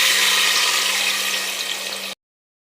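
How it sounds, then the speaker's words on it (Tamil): Water pours steadily into a tamarind rice mixture in a cooking vessel, a continuous close splashing stream that runs for about two seconds and then stops abruptly. "2 அழாக்கு தண்ணி ஊற்றியாச்சு"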